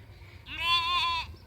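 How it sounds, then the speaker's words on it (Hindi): A single sheep from a flock resting in a field lets out one clear, close bleat lasting under a second, with a wavering, nasal tone over quiet background. "ये पूरे भेड़ बिल्कुल डिसिप्लिन मोड में बैठे हुए हैं"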